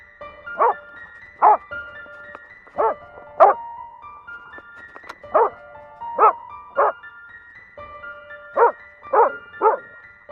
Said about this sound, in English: The clip shows a dog spotting a large grizzly bear and runs straight at the predator without any hesitation.